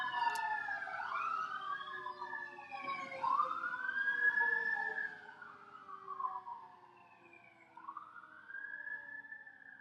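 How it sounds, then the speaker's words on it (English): Several wailing sirens rise and fall together, overlapping as they pass at moderate distance, gradually fading toward the end. "Now I hear 100 sirens coming this way"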